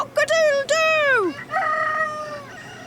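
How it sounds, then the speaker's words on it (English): Cockerels on a farm crowing loudly and close, two long cock-a-doodle-doo calls with falling pitch followed by a shorter crow, with hens clucking faintly around them. "The cockerels crow and the chickens cluck."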